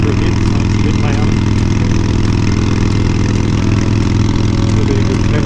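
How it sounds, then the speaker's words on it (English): A Harley-Davidson Street Glide motorcycle engine labours under load while riding, a loud, constant low rumble with wind noise, no pauses over the whole stretch. "Trying to actually make the bike labour a bit, so it's a bit loud."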